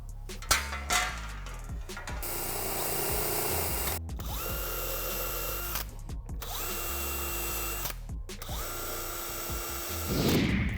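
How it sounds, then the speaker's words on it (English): A power drill bores out holes on an aluminum side skirt splitter fitted to a 2010-2014 Mustang, running in long, steady high-pitched bursts with brief pauses between passes and the motor winding down at the end. "So move it out of the way and drill out the holes."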